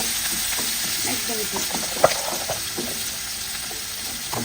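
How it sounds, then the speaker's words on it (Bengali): Bitter gourd fries in leftover fish-frying oil in a pan, a soft steady sizzle with scraping stirs and light clinks throughout, quiet and close, no voices. "মাছ ভাজার তেল দিয়ে এখন করলা রান্না করবো"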